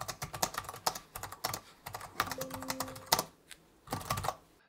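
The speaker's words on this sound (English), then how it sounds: "If you love the tactile feel of a traditional mechanical keyboard, then get the Cherry MX version that I have here." Typing on the Cherry MX mechanical keyboard of an Alienware M18 R2 laptop: quick bursts of clicky keystrokes with short pauses, close and fairly quiet, with no talking.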